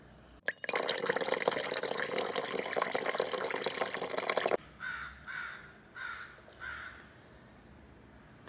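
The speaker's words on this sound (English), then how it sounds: "The crows have joined us this morning." Morning crows cawing several times in short, separated bursts from a moderate distance, heard after a loud rush of running water that cuts off abruptly.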